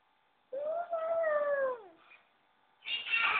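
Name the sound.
child imitating a cat's meow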